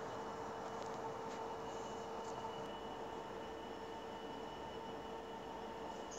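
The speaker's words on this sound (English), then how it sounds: "Train to arrive at Platform 3 is the 1352 Northern service to Wigan Northwestern." A Northern train rumbles steadily alongside Platform 3 at Wilmslow station, with a constant hum and faint high wheel squeal, no voices, continuous throughout.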